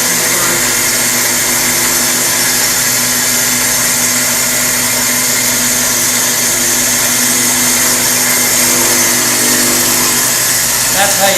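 A machine tool cutting notches into an engine greaser cap, a loud, steady whirring hum with a constant mechanical drone throughout, close up.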